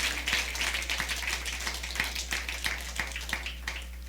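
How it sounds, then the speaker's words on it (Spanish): A church congregation claps together in steady, evenly spaced beats, a moderately loud ongoing applause over a low constant hum. "Dale un aplauso fuerte al Señor"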